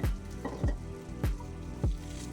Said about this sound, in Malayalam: അതിനുശേഷം നമുക്ക് അരിഞ്ഞു വച്ചിരിക്കുന്ന വഴുതനങ്ങ ആഡ് ചെയ്ത് കൊടുക്കാം.